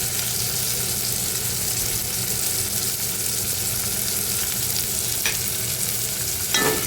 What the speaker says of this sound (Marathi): पुन्हा हे सगळं मिक्स करून घ्यायचं